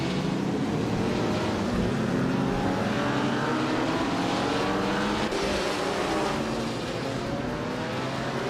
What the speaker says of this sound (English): Pippi Langstrumpf is driving a Ferrari 250 Testarossa from 1957